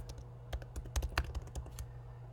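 Rapid clicking keystrokes on a computer keyboard while a label is typed into a text box on a graph, a short irregular burst of close, crisp taps with no talking.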